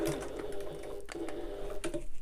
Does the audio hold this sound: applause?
no